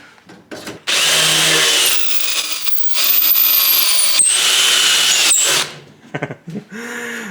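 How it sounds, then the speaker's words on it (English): A power drill fitted with a special bit bores through RV-10 aircraft door material in two sustained loud bursts, with short bumps and handling clatter between and after them; no one speaks. "that worked much better than trying to use standard drill bits"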